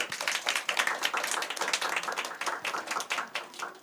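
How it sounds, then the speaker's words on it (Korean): A church congregation at a Sunday service claps in celebration, a dense, lively round of many hands at close to mid distance, steady throughout with no talking. "우리 축하의 박수를 해주겠습니다"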